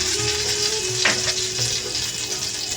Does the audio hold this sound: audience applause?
no